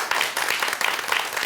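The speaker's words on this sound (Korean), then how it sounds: "박수 한번 쳐드릴까요?" An audience at a Buddhist dharma talk breaks into a short, dense burst of applause, many hands clapping together at close range.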